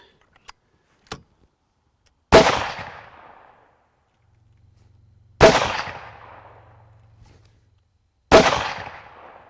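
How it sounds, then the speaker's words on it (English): Three loud, sharp rifle reports from hunting ammunition with SST bullets, fired at a target a few seconds apart, each with a decaying outdoor echo. Two faint clicks come before them. "One of the shots with the SST clipped the top of the target"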